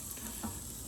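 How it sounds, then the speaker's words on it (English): Onions sizzle and fry in a hot pan over high heat with a soft steady crackle, and a few light scrapes of stirring come through close and clear without any voices. "I'm stirring up these onions"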